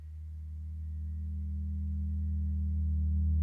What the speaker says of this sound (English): This is a dark pad with the sub.